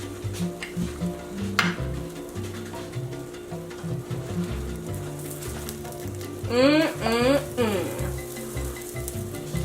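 Vegetarian quesadillas fry in a pan with a steady, close crackling sizzle throughout, and a short warbling tonal sound rises over it near the end.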